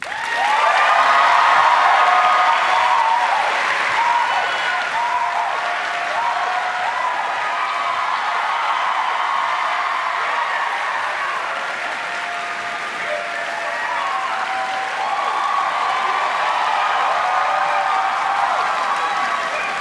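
A large audience breaks into sustained applause as political commentator Hasan Piker is welcomed onstage, dense steady clapping with some cheering that swells early and holds loud for the full stretch.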